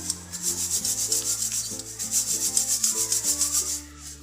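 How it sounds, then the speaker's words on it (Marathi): Roasted poha (flattened rice) sifted through a sieve, a steady rhythmic rasping and shaking of dry flakes against mesh, close and continuous, with no voices. "अशा प्रकारे मी सर्व पोहे चाळून घेते"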